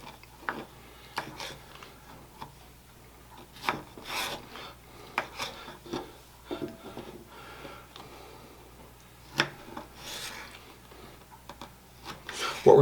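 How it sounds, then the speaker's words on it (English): A knife cuts apart five Roma tomatoes on a wooden board, giving a series of soft, scattered rasping slices and taps at close range, fairly quiet overall. "Next I have 5 Roma tomatoes here. And I'm going to cut these apart."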